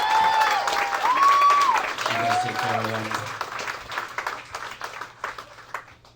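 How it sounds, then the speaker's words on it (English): Comedy-club crowd at Zanies Chicago applauding the wait staff, a burst of clapping and light cheering that swells under a comedian's voice and then thins out and fades. "Clap it up for your wait staff, man."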